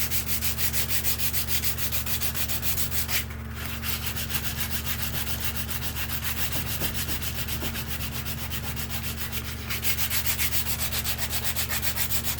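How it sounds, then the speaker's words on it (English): A block sander rubbed back and forth over a wooden gun stock during repair, a steady close rhythmic scratching with regular strokes, set over a constant low electrical hum, with no voices. "I got my block sander here all set up. Basically all I'm going to do is just kind of contour everything in with it."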